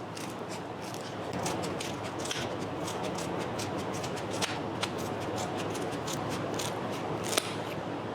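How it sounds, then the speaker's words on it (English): Scissors snip steadily through a foam pool noodle lengthwise, a close series of soft crunchy cuts with occasional sharper clicks over a hissy room background. "So just take our scissors and we'll cut down the middle again."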